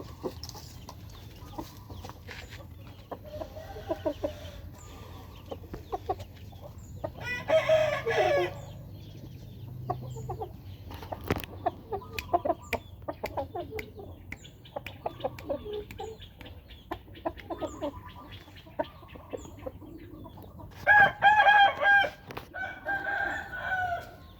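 Roosters crow and cluck in a fighting-cock pen, with scattered clucks throughout and a couple of distinct loud crows, one midway and one near the end, over quiet farmyard background.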